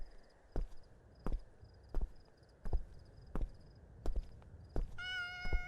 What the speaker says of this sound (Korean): 고양이 귀여워.